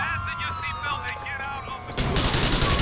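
A loud shotgun blast bursts out in Grand Theft Auto IV multiplayer, following a stretch of excited shouting, and its harsh roar fills the final second.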